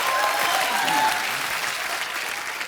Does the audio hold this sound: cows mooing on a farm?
no